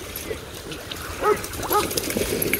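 A dog on a beach gives a couple of sharp, high barks over a steady wash of wind and surf outdoors.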